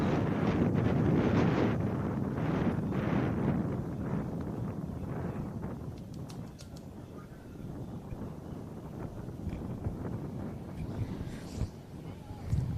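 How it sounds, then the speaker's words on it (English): Steady wind buffets an outdoor motorsport solo event at a fairgrounds, a broad continuous rushing roar with heavy low gusts, strongest early then easing slightly, with faint background activity and no clear talk. "it is a beautiful day today, nice and windy"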